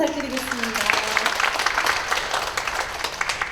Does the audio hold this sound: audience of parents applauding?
yes